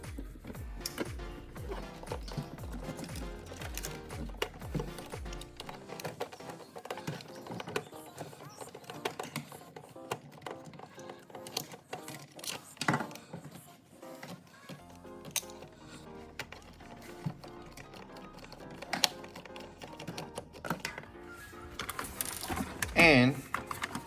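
A screwdriver backs screws out of a plastic monster truck toy, making quiet close clicks, ticks and plastic taps in an uneven run, with faint speech at moments.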